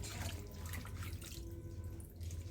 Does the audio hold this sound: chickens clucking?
no